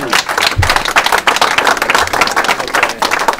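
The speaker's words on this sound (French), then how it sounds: "Et vous pouvez vous applaudir." An audience claps steadily, a loud, dense burst of applause that fills the space from start to finish.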